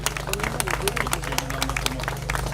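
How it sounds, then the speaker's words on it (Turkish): Scattered clapping from a small group, uneven and lively, with a steady low hum underneath. "Bence güçlü bir alkış hak ediyor."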